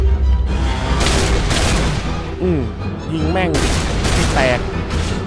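Gunfire from a video game shooter: repeated shots and booms in quick bursts, loud and dense, with someone talking over much of it.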